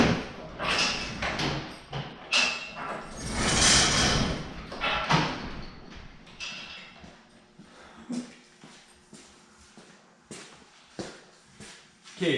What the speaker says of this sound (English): Time to open the shop door, Jackson.